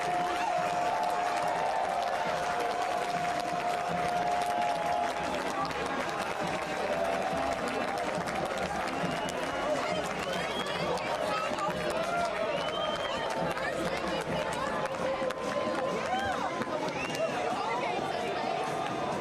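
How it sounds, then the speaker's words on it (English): A large football crowd at Bree Stevens Field roars and cheers after Forward Madison FC's first win since March, a dense, steady wall of voices and applause sustained throughout. "Listen to the sounds of the crowd at Bree Stevens Field."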